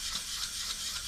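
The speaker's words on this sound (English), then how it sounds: "So we're sanding, and that's all we're doing." Sandpaper rubbing in circles against scratches on a plastic motorcycle helmet visor, a soft rhythmic rasping that swells and fades with each stroke, faint and close with no talking.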